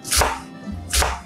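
A knife finely chops an onion on a board in a kitchen: two distinct, fairly soft chops about a second apart, close up with no talk.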